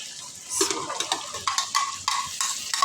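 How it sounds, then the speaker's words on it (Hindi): Tomato paste scraped and stirred into browned ginger and garlic in a pan, with a quiet sizzle under close, repeated spoon strokes for an aloo biryani base. "अब इसमें टमाटर का पेस्ट डाल के इसको भून लेंगे"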